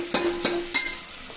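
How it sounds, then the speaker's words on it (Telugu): Ginger-garlic paste and cumin hit softened onions in a hot pan, a steady sizzle broken by three sharp scraping stirs, close and fairly loud. "అల్లం వెల్లుల్లిపాయలు కూడా వేసేద్దాం"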